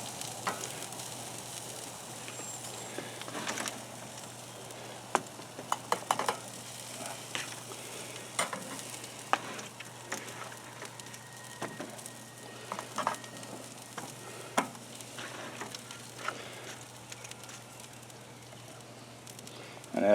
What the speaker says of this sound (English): I'm going to go ahead and throw the asparagus on